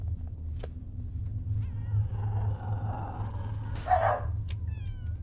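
Cats meowing and caterwauling in the video game Bark at night, a drawn-out wavering yowl over a low rumbling background, followed by a sharper, louder cry and a few faint chirps.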